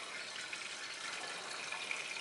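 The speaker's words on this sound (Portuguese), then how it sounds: "Aqui a pia, que não pode fechar a torneira nunca, senão estoura a mangueira lá no mato." Tap water runs steadily into a sink at a rustic forest camp, where the faucet is left open so the hose does not burst; a continuous close hiss and splash, with no voices.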